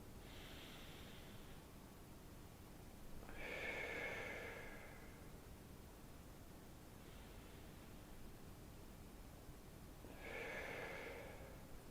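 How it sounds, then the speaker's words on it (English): Someone doing yoga in bed takes slow, deep breaths, two long audible inhale-exhale cycles close up over a faint, steady hiss, with no talking. "So 4 deep breaths in here."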